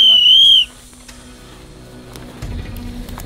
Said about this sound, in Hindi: रेगुलर सीटी मारता रहे